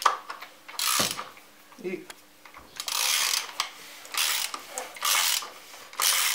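A wrench ratchets while tightening the oil filter housing on a Fiat Grande Punto, producing bursts of rapid, close metallic clicking with brief pauses, while someone speaks quietly between strokes.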